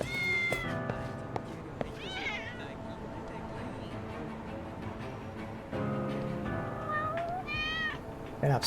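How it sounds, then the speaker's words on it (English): Cats meow repeatedly in the video game Lost Judgment, several drawn-out, wavering cries rising over a steady low ambient game background, moderately close, with no talking. "Get up, stupid cats."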